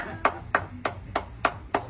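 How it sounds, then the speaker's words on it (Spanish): Six sharp, evenly spaced hand claps ring out close and clear in applause for a magician's act, with no other sound around them. "Bravo, bravo. Tío, un aplauso, tío."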